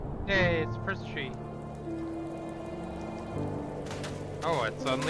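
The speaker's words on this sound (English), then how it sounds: "Oh, it's suddenly raining now." Sudden rain falls in a winter storybook game scene, a soft steady patter spread beneath tonal musical notes and bright chirping sounds that come and go.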